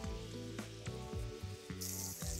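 Scallops sizzle steadily in a hot pan, a close, continuous frying hiss with brief stirring or shifting noises.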